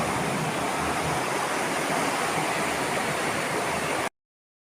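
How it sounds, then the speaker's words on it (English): Heavy rainstorm in Mercia beating down steadily, a dense, even wash of rain noise that stays loud and unbroken for about four seconds before cutting off abruptly to silence. "that's the storm here in Mercia"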